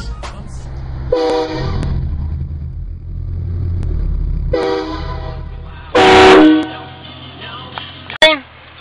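A loud train horn blasted from a car as a prank sounds in several long blaring bursts separated by pauses, with engine rumble underneath and a short sharp burst near the end.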